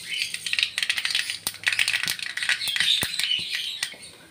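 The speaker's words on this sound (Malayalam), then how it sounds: "എണ്ണ ചൂടായി, കടുകിട്ടം കൊടുക്കും." Mustard seeds popping in hot coconut oil in a pan, a dense run of sharp crackling pops and ticks that keeps going from start to finish, close and fairly loud.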